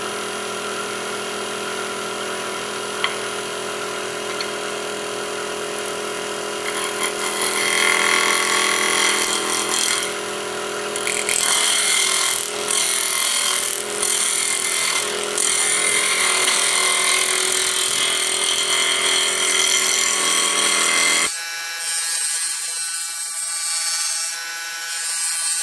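A woodturning tool held at a shear angle slices a spinning walnut bowl on a lathe. A steady motor hum runs under a continuous hissing cut that swells and fades in passes, then drops to the quieter idling lathe near the end.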